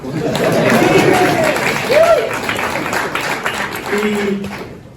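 Audience applause at a London launch party for a Bitstocks iOS app, loud, close clapping mixed with crowd chatter and a few voices.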